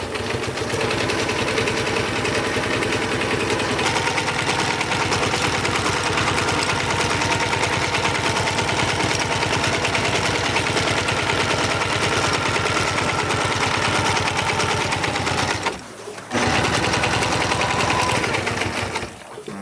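A sewing machine runs continuously, stitching a UV sacrificial strip onto a genoa or jib sail, a loud, dense mechanical whir that drops out briefly near the end and then resumes, with no voices.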